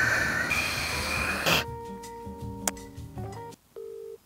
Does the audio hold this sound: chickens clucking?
no